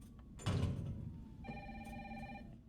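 A telephone rings in Resident Evil 2, a bright electronic ring tone that repeats in short pulses after a brief mechanical clunk, clear and moderately loud.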